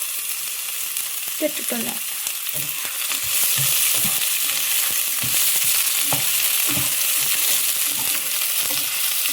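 Onions fry in hot oil for biryani with a loud, continuous close-up sizzle and repeated stirring clatter. A voice says a brief word over it.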